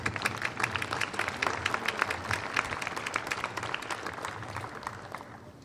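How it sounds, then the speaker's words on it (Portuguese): Applause from a crowd at a religious pilgrimage, welcoming a priest before the Stations of the Cross. Dense clapping sustains steadily throughout and thins slightly toward the end. "com uma grande salva de palmas, acolhemos o nosso superior, Padre Gianni."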